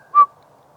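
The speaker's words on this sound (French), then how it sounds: "j'ai entendu comme un sifflement derrière moi" A single short, clear whistle from behind during a paranormal investigation, fairly loud and close, lasting a fraction of a second against near silence.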